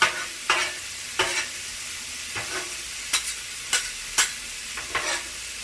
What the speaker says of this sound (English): I think I might just throw down those mushrooms now